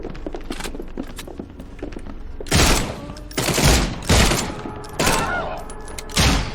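Gunfire in The Sinking City, several loud close bursts of shots in irregular clusters, with quieter clicks and steps between them.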